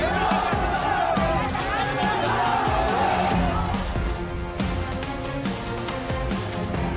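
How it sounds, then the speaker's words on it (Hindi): Masked rioters on a street hurl petrol bombs while a dense crowd of about fifty roars and shouts continuously, with scattered sharp impacts and thuds breaking through the loud, sustained hubbub. "सड़क के दूसरी तरफ भीड़ खड़ी है और उन्होंने चेहरे को ढक रखा है और पेट्रोल बम फेंक रहे हैं।"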